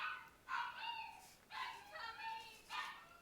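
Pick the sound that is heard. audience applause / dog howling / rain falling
dog howling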